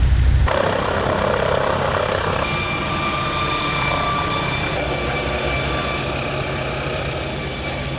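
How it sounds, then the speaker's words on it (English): A loud, steady mechanical roar with a whining engine tone fills the whole stretch as a nearby helicopter powers up to take off at a London hospital, with no voices. "Looks like there's a helicopter about to take off."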